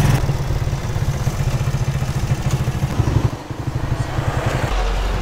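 Yamaha Aerox motor scooter riding back to a repair shop with a noisy CVT: a steady mid-pitched engine drone with rattly clatter, close by, briefly easing midway then resuming.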